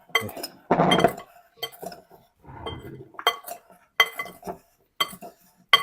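A utensil clinks against a bowl as guava pieces are mixed with salt, cumin powder and lime juice, giving close, irregular scraping and clinking strokes with short gaps, no talking.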